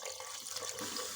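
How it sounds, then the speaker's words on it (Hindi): Roughly half a litre of water pours steadily into a pot of cooked pav bhaji vegetables with green peas, a continuous close splashing stream heard alone. "अब मैं इसमें ऐड करूँगी तकरीबन आधा लीटर पानी।"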